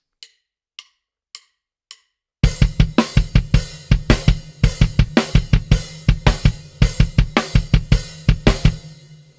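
Kick drum from a song, first a few soft isolated hits, then a loud full mix with the kick pounding a swung pattern of three eighths and a rest, repeating steadily.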